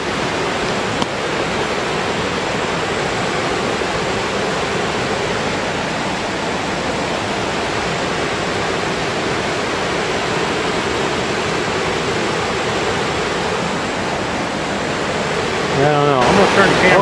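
A waterfall pours steadily over rocks in a continuous broadband roar, close and loud throughout, with a brief bump of noise near the end.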